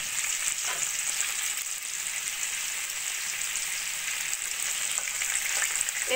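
Eggplant slices fry in a pan with an oil sizzle that stays constant throughout, with faint crackles and the occasional scrape of stirring. No one speaks.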